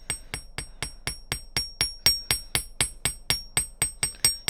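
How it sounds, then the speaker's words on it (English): A small hammer striking the wire frame of a gemstone wrap pendant, a steady run of about sixteen sharp, evenly paced metallic taps, close and alone with no talk. "I'm just hammering straight."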